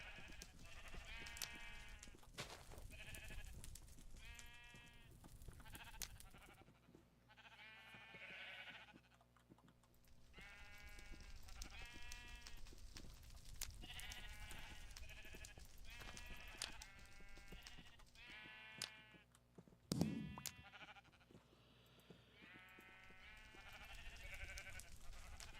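Many sheep bleating at a sheep farm in Minecraft Sky Factory 5, repeated overlapping bleats in a steady cluttered stream alongside faint keyboard typing and a sharp click near the end.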